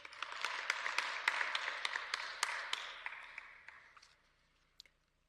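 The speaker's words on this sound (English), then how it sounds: "Can we give them a round of applause?" Audience applause for students at a provincial climate change workshop: many hands clapping steadily, somewhat distant, swelling and then fading out over about four seconds, followed by a couple of stray claps.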